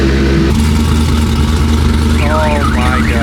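A modified 1000 hp Corvette engine runs loud and close with a deep, buzzy drone like a rotary. Near the end, a wailing car alarm starts up over it.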